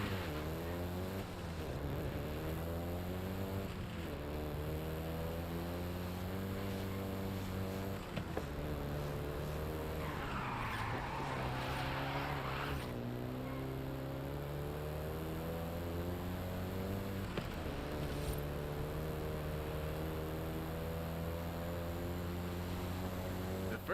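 A first-generation Volkswagen Golf GTI in a racing video game gives a continuous engine drone that rises and falls through the gear changes, staying loud and close, with a brief hiss partway through.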